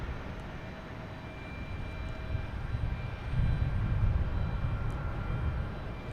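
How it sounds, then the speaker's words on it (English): Delta Airbus A321 landing at Boston Logan on flight 2648 from Detroit, a steady jet rumble with a thin engine whine that grows louder midway as the aircraft draws near. "Here's Delta coming in from Detroit, an A321, flight 2648."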